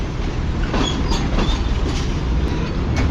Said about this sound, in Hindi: और मेन प्लेटफॉर्म यानी प्लेटफॉर्म नंबर 3 पर अब पहुंच रही है ट्रेन हमारी आज